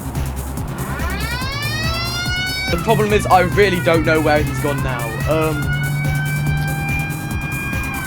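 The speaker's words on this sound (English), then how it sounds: "Got to put on the sirens." A police car siren in BeamNG wails with rising and falling sweeps over a low engine hum, while someone talks over it partway through.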